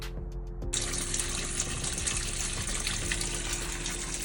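A garden hose runs water into a chest freezer converted into an outdoor cold plunge. After a brief quieter moment, the flow gushes in loud and continuous, a close, steady splashing rush with no talking.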